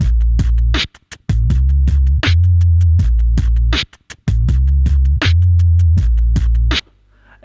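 Looped vocal beatbox pattern run through a loop station's guitar-to-bass octave effect, giving deep, pitched-down thumps in a steady repeating rhythm, loud and close, then cutting to near silence at the end.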